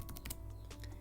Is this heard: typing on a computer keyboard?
yes